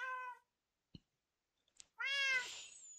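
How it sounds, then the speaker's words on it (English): Two clear cat meows frame a near-silent gap with a couple of faint clicks, the second meow louder and longer with a strained, drawn-out tone. "And we have five living cats."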